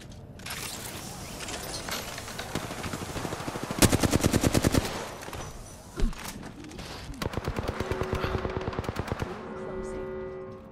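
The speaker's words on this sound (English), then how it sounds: "Some fuckers shooting at me." Rapid video game gunfire, with several bursts of automatic fire rattling in quick runs and a single sharp shot in between, heard alongside in-game sounds and occasional talk.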